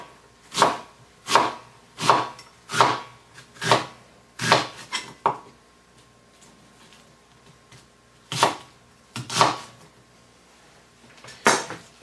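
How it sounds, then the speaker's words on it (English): A knife chops a cabbage on a cutting board into thin julienne strips, sharp close thuds falling in a steady rhythm, then a pause and a few more cuts. "I'm going to julienne them, which means thin strips"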